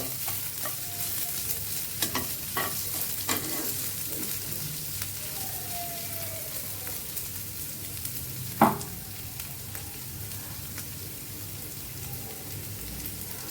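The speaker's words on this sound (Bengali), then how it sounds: "চালটা একটু করে ভাজি করে নেব।" Rice frying in a pan, a soft, even hiss that runs throughout, with scattered light clicks and one sharp knock toward the end.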